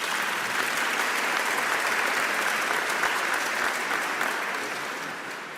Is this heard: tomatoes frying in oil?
no